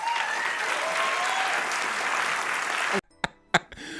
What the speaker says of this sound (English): you heard that round of applause?